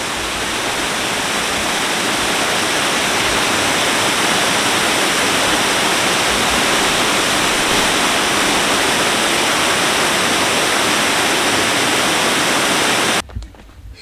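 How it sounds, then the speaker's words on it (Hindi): Loud, continuous roar of a waterfall in the Brecon Beacons, Wales, heard close up as a dense rushing wash that runs steadily before cutting off abruptly at the end. "ये सेकंड वाटरफॉल बहुत ही खूबसूरत है"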